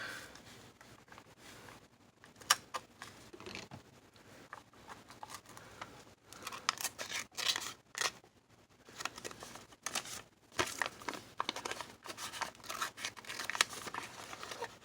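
Scissors snipping and trimming paper for an iris-folding paper tag, quiet and close, with irregular bursts of crisp cuts and rustling of paper between pauses.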